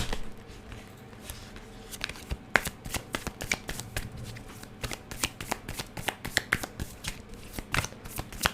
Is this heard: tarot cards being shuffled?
yes